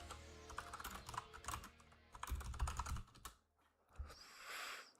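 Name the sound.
typing on a computer keyboard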